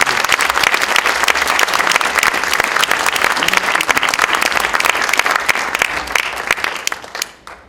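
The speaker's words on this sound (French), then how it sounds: "Vous pouvez aussi applaudir." Audience applause fills the hall at the closing ceremony of the 2015 FIG festival, a loud, steady burst of many hands clapping close by that fades away toward the end.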